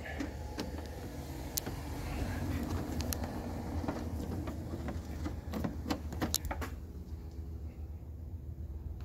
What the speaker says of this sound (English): So now the job is for the screwdriver, reverse direction here, and tighten it up